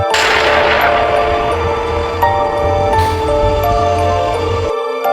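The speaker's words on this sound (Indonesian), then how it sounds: "tiba-tiba saja suara letusan tembakan terdengar yang mengenai wanita itu dan membuatnya tumbang" A loud gunshot crack in a film scene opens, followed by ringing tones and a dense, rumbling film soundtrack that continues steadily before cutting off abruptly.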